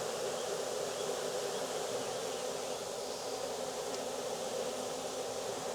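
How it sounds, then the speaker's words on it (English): A dense mass of honey bees drones in a steady, close buzzing hum while a swarm is being hived, even and unbroken, with no speech. "There are a lot of bees in there."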